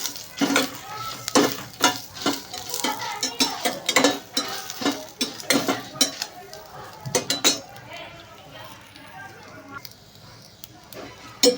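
Coriander, ajwain, cumin and cinnamon sizzle in hot oil for a Mangalore-style fish curry, with a steady fry under repeated sharp clinks of a spoon stirring against the pan while a person talks.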